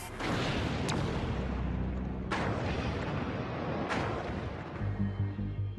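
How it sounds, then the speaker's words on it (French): The hydrogen explosion at Fukushima nuclear plant reactor unit 3 comes through as a continuous heavy rumbling roar, with sharp cracking bursts near the start, around two seconds and around four seconds, then deep booming pulses toward the end. "une explosion d'hydrogène fait sauter le dessus de l'unité numéro 3"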